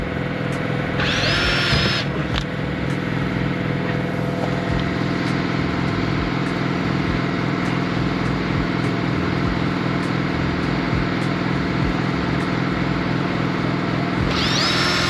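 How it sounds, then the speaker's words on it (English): A power drill drives 6-inch screws into a 1¼-inch DoorEdge seal at the bottom of a walk-in door: a steady mechanical whir and rumble runs throughout, with short higher-pitched whines near the start and end. "Now I'm going to go and finish the 6-inch screws."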